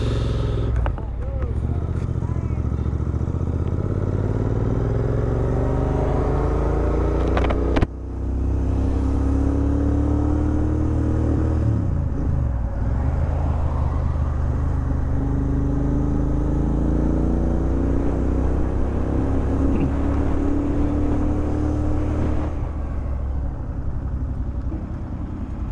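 A Royal Enfield motorcycle cruises along a highway, its engine giving a steady loud rumble with a sharp bump partway through and continuous wind and road noise under it.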